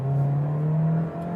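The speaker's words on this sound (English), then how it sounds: "that was like a 0 to 40 miles an hour acceleration" A compact crossover SUV, one of several small Toyota, Lexus, Volkswagen or Honda models, pulls away from a stop up to about 40 mph, its steady engine drone holding a rising pitch close by with no talk.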